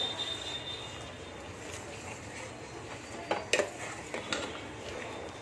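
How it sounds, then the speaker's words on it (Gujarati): A spoon scrapes and clinks faintly against a metal pot while stirring hot milk for fruit custard, with a few sharper taps near the end over low background noise. "આ રીતના ગરમ દૂધમાં આપણે થોડું થોડું કરતા જઈને ઉમેરતું જવાનું છે, અને આ રીતના ચમચા વડે હલાવતું જવાનું છે"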